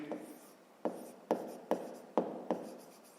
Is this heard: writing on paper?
yes